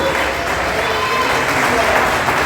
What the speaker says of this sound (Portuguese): Você pode aplaudir por fazer parte desse corpo?